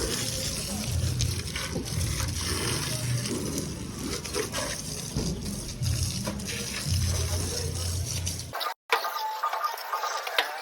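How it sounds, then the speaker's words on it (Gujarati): Water sprays steadily over a Hero Splendor motorcycle as it is washed, a continuous hissing gush with faint background voices, briefly interrupted before resuming. "આપણે સ્પ્લેન્ડરને પણ પાણીથી વોશ કરી દીધી છે"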